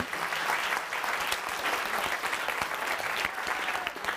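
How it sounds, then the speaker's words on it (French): Sustained applause from an audience, dense steady clapping at a moderate distance, continuing without pause throughout. "Un tonnerre d'applaudissements, quand même."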